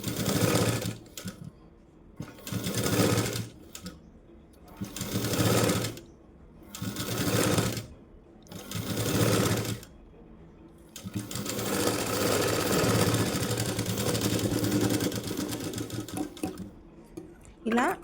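Sewing machine stitching piping cloth onto a puff sleeve, loud rapid mechanical whirring in several bursts separated by short pauses, then a longer continuous run, with someone talking in between.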